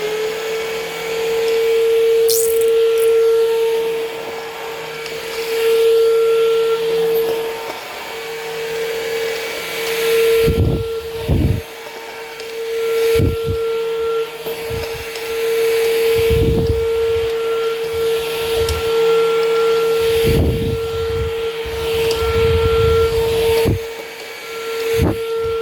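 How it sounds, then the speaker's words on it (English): A PerySmith Bossman Kaden PRO K3 cordless vacuum cleaner runs continuously on a floor under a computer table, a steady close whine with occasional bumps and rattles as it sucks up hair and dust. "So just vacuuming under my computer table"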